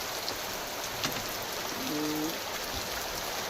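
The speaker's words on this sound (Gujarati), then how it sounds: "હાલમાં હજી વરસાદ ચાલુ છે" Rain falls heavily and continuously, a broad hissing wash with a brief faint tone partway through.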